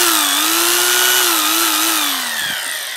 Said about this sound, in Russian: И вот удар без сверления.